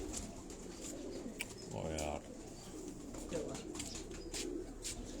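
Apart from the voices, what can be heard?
pigeons cooing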